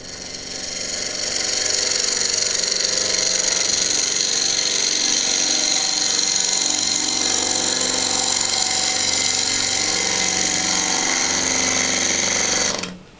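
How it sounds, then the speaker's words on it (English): A wood lathe spinning at about 500 RPM cuts a pass along the side of a wooden bowl blank, a steady loud rough whir with a faint hum that holds for over ten seconds, then stops abruptly. "I'm going to come in here and just make a pass to start cleaning up the side of the wood here"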